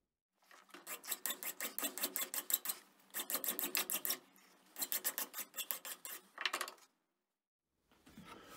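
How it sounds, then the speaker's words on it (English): A hand file rasps the casting ridge off a cast metal flange in rhythmic bursts of quick, scraping strokes, several runs separated by short pauses, close and fairly loud. "So I'm just going to grab a file, flatten those off"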